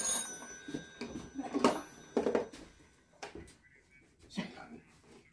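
Hotel room telephone at a Hotel Indigo in London, ringing in short bursts under people talking nearby.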